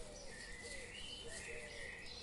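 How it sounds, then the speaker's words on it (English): Birds in garden treetops on a sunny day, with soft chirps and high tweets layered with cooing, continuous and moderately distant over a steady outdoor background with no voices. "You can hear leaves rustle as birds play in the treetops."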